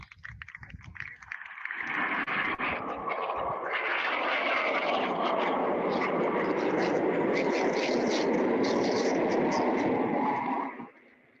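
Blue Angels jets flying in formation pass over an air show practice, a rising, sustained roar that swells for several seconds before cutting off, with a voice talking faintly beneath.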